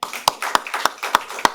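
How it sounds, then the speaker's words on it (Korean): A congregation clapping during a Sunday church service, sharp in-time claps repeating about every third of a second, close and loud with no talk. "할렐루야. 박수."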